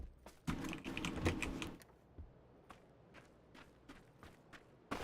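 Footsteps in the PUBG video game, a quick run of soft close steps at first, then sparser scattered taps and thuds at low volume.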